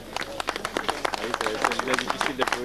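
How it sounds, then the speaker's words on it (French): Outdoor crowd applauding riders at a mountain bike downhill race event, scattered clapping that builds into a steady patter while someone talks over a loudspeaker throughout. "Voilà, allez, on les applaudit bien fort."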